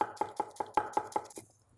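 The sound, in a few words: knife chopping purple cabbage finely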